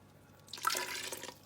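Broth poured into a pot of Brunswick stew, a brief soft liquid splash and trickle that starts after a moment of quiet and continues steadily, close by.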